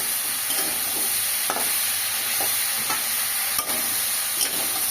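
Taro curry being stirred as it fries in a pan, a dense continuous sizzle with repeated scraping strokes of the spoon every second or so, close and fairly loud, with no talking.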